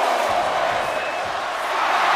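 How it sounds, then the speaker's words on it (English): Arena crowd in the WWE 2K24 wrestling game roaring steadily after an Undertaker chokeslam outside the ring in a Last Man Standing match, a dense, continuous wash of cheering at even loudness. "The crowd is fired up."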